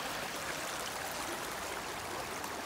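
Steady broadband rush of a stream flowing near a large waterfall at a swim-hole spot, a continuous even roar with no breaks, filling the whole clip.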